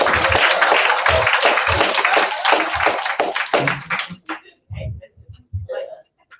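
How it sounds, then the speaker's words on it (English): A church congregation claps during a sermon, a full burst of applause with some sharp individual hand claps that tapers after about four seconds into a few scattered claps and faint sounds. "Can y'all give Elijah a round of applause?"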